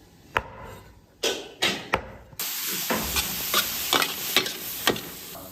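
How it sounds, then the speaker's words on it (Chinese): Duck intestines stir-fried in a wok give sharp, rhythmic spatula scrapes, then a sudden loud burst of sizzling that continues steadily under further tossing strokes. "这么炒一炒起来。"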